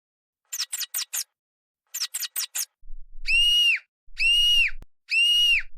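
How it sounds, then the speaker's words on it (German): A person screams in three loud, drawn-out cries close by, preceded by two quick runs of sharp chirp-like bursts. "Wer schreit da?"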